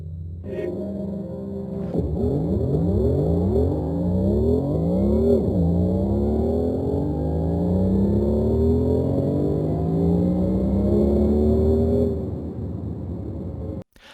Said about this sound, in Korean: 포르쉐는 내연차의 감성을 잊지 못하는 사람들을 위해서 배기음도 특별하게 제공을 하고 있고요